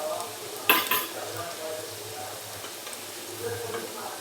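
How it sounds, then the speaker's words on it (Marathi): Onion sautéing in a pan, a soft steady sizzle with a sharp spoon scrape against the metal and light stirring clatter, fairly close. "आता मऊ होईपर्यंत परतायचं आहे"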